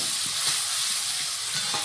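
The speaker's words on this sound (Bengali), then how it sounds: "তেল দিয়েছি, এবার পেঁয়াজ কুচিটা দিচ্ছি" Chopped onion sizzles in hot oil with a loud, dense hiss. Occasional soft stirring knocks sound beneath it.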